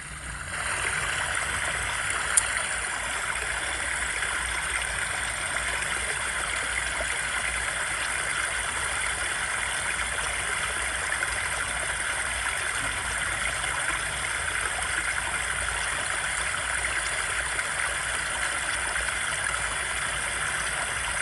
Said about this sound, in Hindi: पहाड़ों से पानी गिरने लग गया।